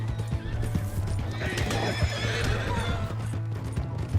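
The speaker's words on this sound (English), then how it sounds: "Hey, that's my horse!" Horse hooves clip-clop steadily throughout while a horse whinnies, with faint voices in the Red Dead Redemption 2 western video game, the hoofbeats close and loud.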